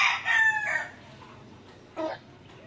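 An inbred gamecock with an injured wing crows once nearby, a loud drawn-out call lasting under a second, followed by a quieter short vocal burst over a faint background hum.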